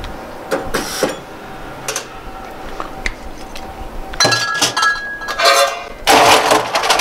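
Ice added to a glass while mixing a White Negroni cocktail, with scattered clinks and rattles that end in a louder rush of cubes tumbling in toward the end, close by and without speech.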